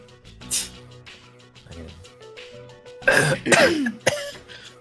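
Someone clears their throat and coughs a few times nearby, harsh rasping bursts, with quiet murmuring between and a louder coughing fit toward the end.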